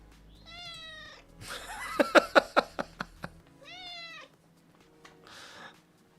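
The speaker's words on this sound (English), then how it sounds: "This cat's starved for attention, chat." A pet cat meows clearly at close range, then makes a rapid run of sharp, rhythmic chirping cries, then meows again twice more, with nobody talking.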